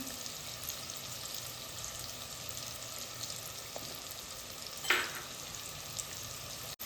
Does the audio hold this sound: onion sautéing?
yes